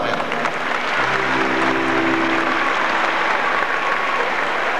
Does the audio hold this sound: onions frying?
no